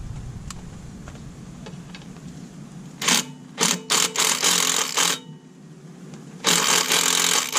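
A drill driving screws into the fiberglass hull of a Carolina Skiff 198 DLV boat while trim tabs are fitted, quiet room tone first, then several short loud whirring bursts close by, ending in a longer sustained run.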